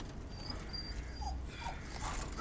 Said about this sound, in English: You dumb little dog.